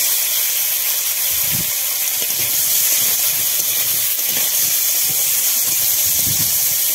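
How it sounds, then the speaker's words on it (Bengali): Cauliflower pieces fry in hot oil with a steady, soft hiss, and a few faint clinks of cookware sound over it. "ফুলকপিগুলো কিন্তু লাল লাল করে ভেজে নিলাম"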